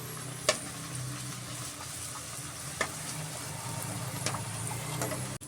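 Beetroot poori frying in hot oil, a steady close sizzle with a few sharp pops and crackles scattered through.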